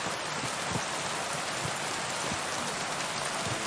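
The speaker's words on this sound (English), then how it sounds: "And then we can listen to the rain." Rain in the medieval video game Kingdom Come: Deliverance II falls steadily, a dense close hiss of drops pattering on surfaces with soft scattered thuds, continuous and even with no voices.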